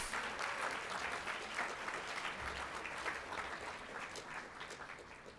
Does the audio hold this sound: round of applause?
yes